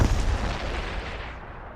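A heavy blast or burst of gunfire from troops breaching in Star Wars: The Old Republic, a loud, close boom that decays over about two seconds.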